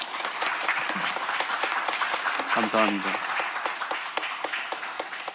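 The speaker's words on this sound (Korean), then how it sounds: "강경민 목사님, 우리가 다시 한번 우리 감사의 박수 한번 드리겠습니다." A congregation at a church thanksgiving service for a new pastor's installation and vision proclamation claps steadily in thanks for Pastor Kang Kyung-min, a dense, sustained wave of applause with a brief spoken voice over it.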